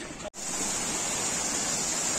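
A mountain stream on the Kedarnath trek rushes in a steady broadband wash of flowing water, close and continuous, with only a very brief dropout near the start.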